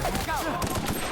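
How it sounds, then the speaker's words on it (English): Automatic weapon fire in The Outer Worlds rattles off as a quick burst of rapid shots, mixed with a voice talking over it. "the recoil on freaking automatic weapons"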